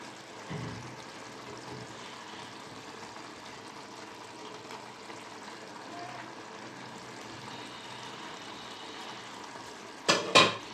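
Fried paneer cubes stirred into chili sauce in a pan, a steady soft sizzle and scraping running throughout, with a couple of louder clatters near the end.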